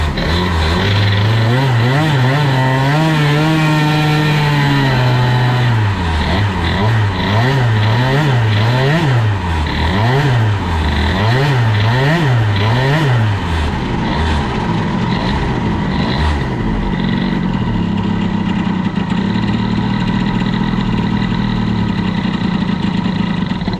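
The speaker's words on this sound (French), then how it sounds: "Le moteur a tellement peu d'inertie avec ce variateur que ça cale très facilement." A tuned Fox scooter engine fitted with a Boost cylinder head and a Stradivario prototype variator revs hard and close, its pitch climbing, then swinging up and down in quick repeated blips before settling into a steady, high, buzzing run.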